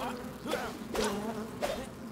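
Insects buzz close by in the video game Enshrouded, a steady droning hum with a few louder swells as they pass near.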